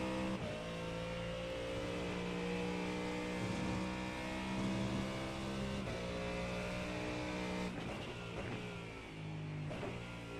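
Ford Mustang GT3 race car in the iRacing sim, its engine holding a steady, loud, harmonic drone near the listener with small pitch shifts and brief gear-change dips, no speech.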